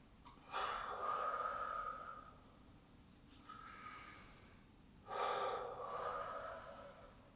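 Slow, deep breathing with an audible inhale and exhale, then a second breath cycle, close and clear against a quiet room with no talking.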